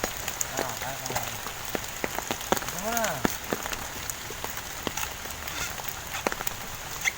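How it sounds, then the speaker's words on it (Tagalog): Rain falls steadily outdoors as a constant hiss of drops patters on surfaces, with occasional sharper drips, while birds chirp faintly in the background. "inabot na ng ulan"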